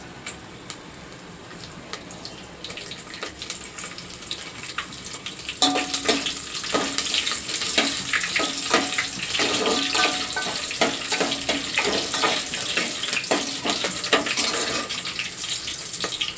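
Green chillies and cloves frying in hot oil in a pan, a low hiss that swells after a few seconds into a loud, dense crackling sizzle with scattered pops, continuing steadily with no speech.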